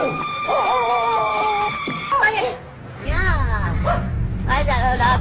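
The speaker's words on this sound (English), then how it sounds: "Why is that little dog barking at me?" A little dog yips and barks in short, high bursts mixed with whiny, drawn-out cries, heard close alongside a person talking.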